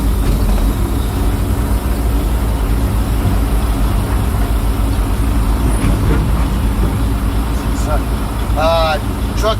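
A semi truck tractor trailer pulls forward in third gear after the brakes are released, its loud, steady low engine rumble filling the whole cab, with a person speaking briefly near the end.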